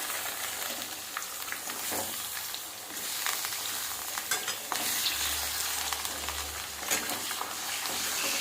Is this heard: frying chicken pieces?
yes